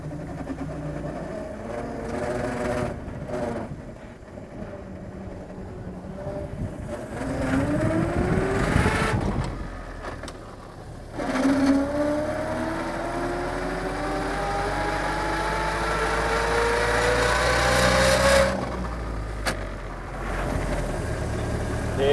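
The first-ever Volvo car's engine rumbles as it drives and accelerates, its pitch climbing through several gear pulls with short drops between shifts. It stays moderately loud and close, with strong shaking road noise throughout.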